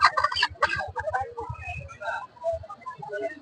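Chickens, a pair of Chinese breed birds, cluck and chatter at a riverside market, close and intermittent, mixed with voices from people bargaining nearby.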